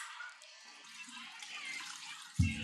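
Water runs and trickles from plantains draining in a kitchen sink, a faint steady splashing that ends in a louder burst of pouring near the end.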